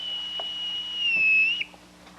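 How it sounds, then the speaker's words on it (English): A captain blows a thin, high whistle in a stage musical to call the children. It is one long, sustained note that wavers a little before cutting off sharply, and faint low sounds hum underneath. "I can't bear being whistled for"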